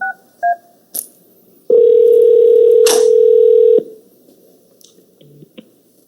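A steady telephone dial tone holds for about two seconds while calling in to a council meeting, preceded by short beeps and clicks of dialing, then cut off, with faint room noise around it.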